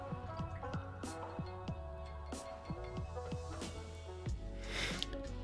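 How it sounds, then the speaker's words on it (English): A watercolor brush is swished and tapped in a water cup, making a soft, close series of irregular liquid plinks and clicks that end with a brief louder splash. "We'll rinse our brush."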